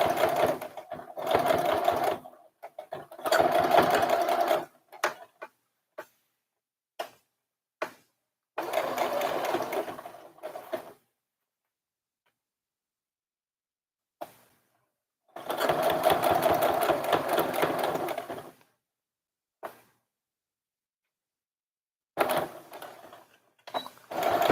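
A sewing machine stitches a little girl's dress collar in several close, loud bursts with short stops and reverse stitching between runs, separated by silent gaps.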